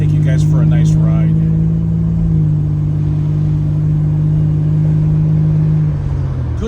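A 1987 Buick Grand National's engine drones steadily while driving, a loud close rumble inside the cabin with a slight pitch shift partway through, and a voice briefly at the start.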